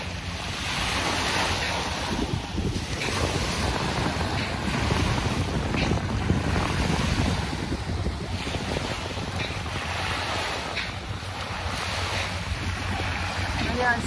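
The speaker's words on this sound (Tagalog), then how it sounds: "Pag ganito na malakas ang alon at hangin" Strong surf and gusting wind along the Manila Bay shoreline near Dolomite Beach, a steady loud roar of breaking waves with wind buffeting the microphone throughout, no pauses.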